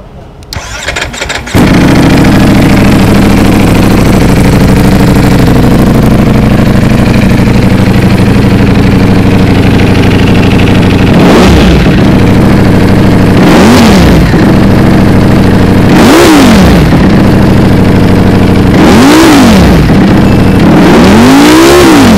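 Ducati Panigale V4S motorcycle with a 90-degree V4 four-cylinder engine starts and settles into a loud, close idle, followed by four sharp throttle blips that rise and fall at regular intervals.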